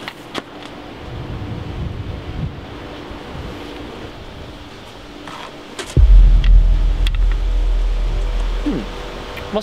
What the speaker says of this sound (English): Must have been the wind.